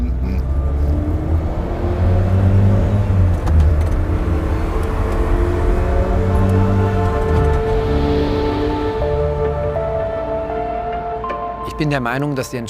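A Porsche turns onto a highway ramp, its engine holding a steady, loud hum with a slight rev, while a voice talks over it.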